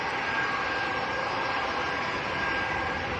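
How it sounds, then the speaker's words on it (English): A Ryanair Boeing 737 MAX arriving at Manchester Airport in gusty wind produces a steady, moderately loud jet roar with a faint whine, unbroken across a few seconds and heard alone without talk. "This is a Ryanair Max."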